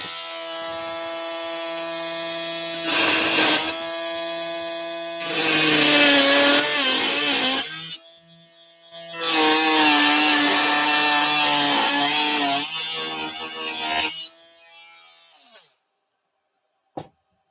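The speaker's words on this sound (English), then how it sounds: "just going to use the Dremel a minute, so it'll get a little bit noisy for a minute" A Dremel rotary tool runs in loud, whining bursts that rise and fall in pitch over several seconds, with short pauses between them, before it cuts out to near silence with a final click.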